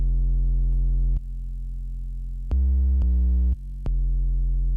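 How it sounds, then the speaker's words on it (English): A deep sub bass from a Friday Night Funkin' track sustains long low tones that shift between a handful of notes, loud and steady with abrupt changes, alone with no voices. "Just write that in a sub bass,"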